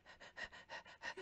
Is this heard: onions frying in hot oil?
no